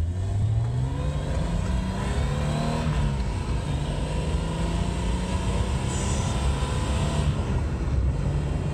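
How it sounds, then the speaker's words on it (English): BMW E30 car with a newly swapped manual transmission being driven, its engine a steady loud drone with rising pitch sweeps as it accelerates through gears, continuous road and wind noise throughout. "Inaugural drive after the manual swap."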